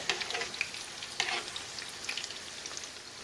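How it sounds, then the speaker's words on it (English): Korean mandu dumplings coated in panko fry in oil, sizzling and crackling steadily with sharp spattering pops, a close, busy frying sound with no talking. "I'm going to keep frying these here"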